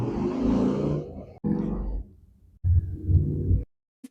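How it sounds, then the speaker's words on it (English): Motorcycles passing outside a house rev their engines in three loud, throaty bursts with short gaps between them, close by and without speech. "that's just motorcyclists driving by, revving their engines as they do"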